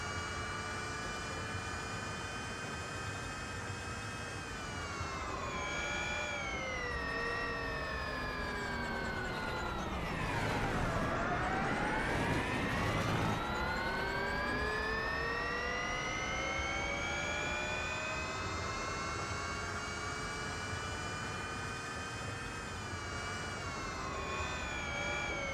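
A Formula E electric race car's motor whine in the video game Real Racing 3 rises and falls in pitch like a car passing, a continuous synthetic tone sweeping down then back up over a steady hum.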